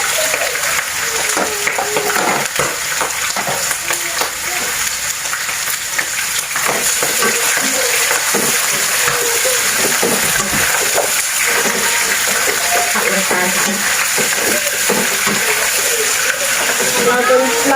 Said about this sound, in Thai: เอาหมูลงไปผัดเลยนะคะ